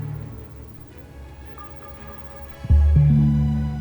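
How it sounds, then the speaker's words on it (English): A Sonos Arc Ultra soundbar gives its setup chime, a loud, deep, sustained tone that swells in abruptly and rises in a second step after a quiet lead-in. "your Arc Ultra is going to play a chime noise that sounds like this"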